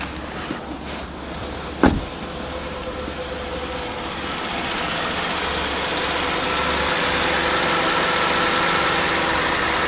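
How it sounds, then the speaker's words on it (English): A 2000 BMW 750iL at a Japanese car auction idles steadily after a sharp click, its low hum settling into an even, slightly louder drone near the car. "Let's have a listen to the engine."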